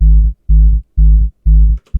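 A synthesized hardstyle kick drum with its high end cut by EQ, four heavy booming low thumps in a steady beat, each sustained and tonal, followed by a short clipped hit, loud and close with no talk.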